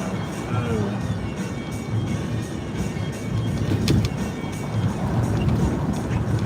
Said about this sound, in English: This is a Ford Explorer.